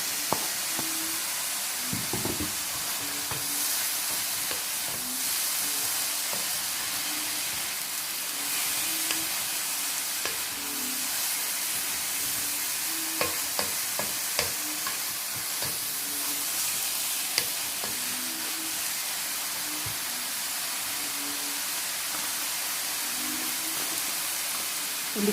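Tomato tossed into a hot pan with frying comb mushrooms, a steady loud sizzle and hiss of oil and steam running throughout, with occasional scraping taps of stirring and no talk.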